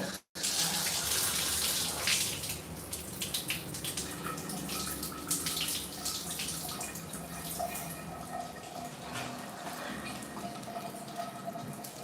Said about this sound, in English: So I keep it going over here to the faucet to get the water out.